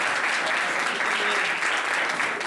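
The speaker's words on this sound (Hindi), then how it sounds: "सिस्टर श्रेया के लिए जोरदार ताली।" Loud, dense applause from an audience at a church Bible school preaching competition, a continuous wash of clapping sustained evenly throughout the short stretch.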